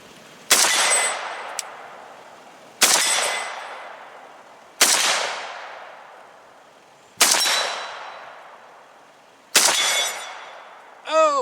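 Five loud, sharp AK rifle shots, fitted with a Strike Industries muzzle device, ring out about two seconds apart at a steel target. Each shot has a long echoing decay, and a brief metallic ring follows at the end.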